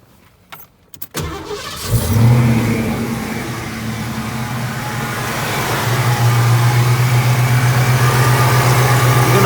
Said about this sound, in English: car running,